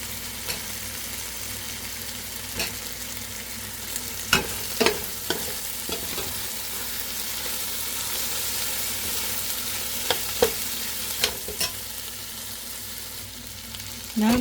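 Onion frying in a pan while being stirred, a steady sizzle running throughout with scattered scraping knocks of the utensil against the pan.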